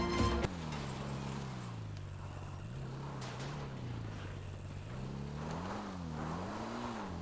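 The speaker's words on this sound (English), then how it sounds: "Those chains make my motorcycle just slip and slide all over the place" A motorcycle ridden in GTA Online: a steady engine drone with tonal pitch that rises and falls as the rider revs and slips, close and continuous after a brief opening thump.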